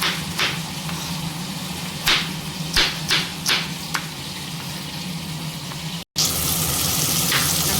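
Chopped tomatoes and curry leaves sauté in a pan for dal rice, a constant close sizzle broken by sharp spatula scrapes and taps, briefly cut off near the end.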